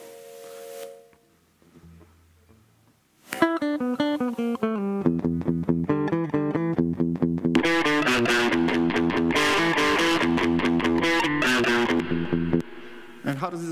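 Electric guitar run through a browser-built distortion amp effect, heard as loud, sustained overdriven chords and riffs after a quiet opening with a brief low clean tone, strumming densely and continuously to the end.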